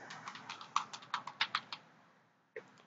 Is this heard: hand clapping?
no